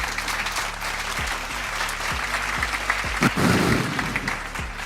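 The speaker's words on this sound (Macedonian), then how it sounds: "Уште еден аплауз да продолжиме дале" Studio audience applause at a Macedonian TV show, a steady, dense clapping that carries on for the whole stretch with a low droning tone underneath and a brief swell near the end.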